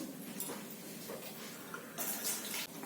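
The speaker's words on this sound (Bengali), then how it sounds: "আমি একটু আলুটা ধুয়ে নিচ্ছি" Potatoes being rinsed under running tap water at a kitchen sink, a steady close splashing wash that swells louder near the end, with no talk.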